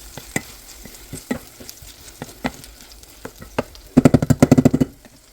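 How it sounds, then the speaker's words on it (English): Fish searing in butter and oil in a pan: scattered single clicks and scrapes give way to a rapid burst of loud clattering spatters near the end, close and with no talking. "And then I'm going to sear my fish."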